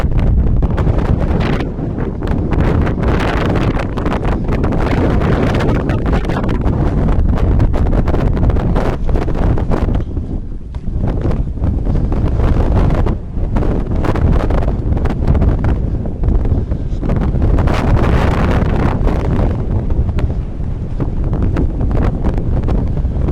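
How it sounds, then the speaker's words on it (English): Strong wind buffets the microphone outdoors near a bluff above a burned wet meadow, a loud continuous roar with gusty swells throughout and no speech. "High wind, sorry."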